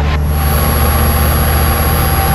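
A small training airplane's piston engine at full throttle on a pilot lesson flight, a loud steady droning roar with heavy low rumble, continuous and close, no talking.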